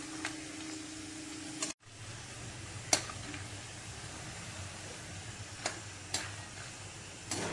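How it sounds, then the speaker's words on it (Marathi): Peanuts roast in oil in a pan, a low continuous sizzling hiss with a few isolated crackles and ticks, heard close and without any voices. "शेंगदाणे चांगले मस्त खरपूस भाजून घ्यायचे."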